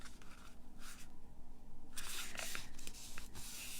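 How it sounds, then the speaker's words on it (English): Paper is folded in half and creased with a bone folder for a Christmas card class. Quiet, close rubbing and sliding strokes come in short bursts, with no voices. "Then you're going to fold it in half again."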